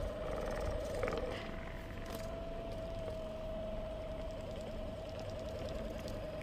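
An IK-WMG01 massage gun fitted with a ball head attachment runs with a steady faint buzzing hum, constant and close throughout, no voices.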